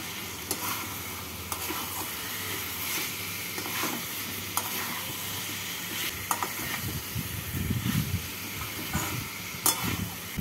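Fried potatoes and taro being tossed with spices in a pan, a soft steady sizzle under repeated scraping and stirring strokes, with a few sharper clinks, close and fairly quiet, without voices.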